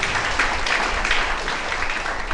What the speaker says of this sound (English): I expected you to clap for him for that.